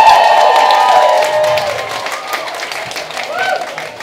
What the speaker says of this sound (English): A round of applause for our gorgeous stage kittens.